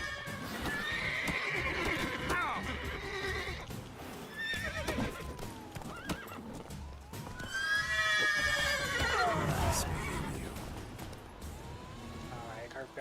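A horse in The Witcher video game neighs and whinnies repeatedly over clopping hooves, loud and close, with several drawn-out calls.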